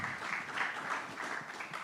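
A conference audience at an innovation and commercialization panel event gives Alfred a round of applause, a steady crowd of hands clapping continuously throughout, moderately loud in the hall.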